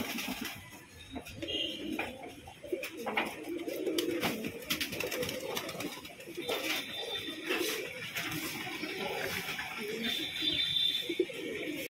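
Fancy pigeons, including brown lakka fantails, give soft, low cooing at a pigeon loft after rain. The cooing is faint and steady beneath a person talking throughout.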